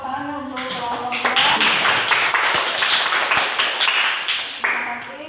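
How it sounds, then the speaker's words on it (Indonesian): Classroom applause for a student group after a science presentation on dental care, a burst of many hands clapping that swells quickly and holds steady for several seconds, with voices mixed in. "Tepuk tangan untuk kelompok 2"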